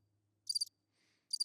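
Crickets chirp in two short, faint bursts of rapid trills separated by near silence, used as a sound effect.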